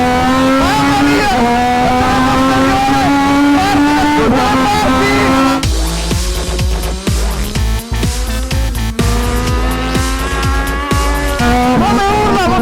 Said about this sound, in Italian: come urla, motore della PT09